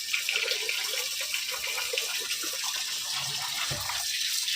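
Steady water runs from a tap into a sink while dishes are washed, a continuous close splashing hiss with faint clinks underneath.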